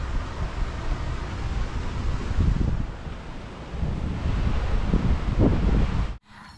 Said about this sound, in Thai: โอ้ตอนนี้มีลมบางแหงมา ฝนน่าจะตกนะ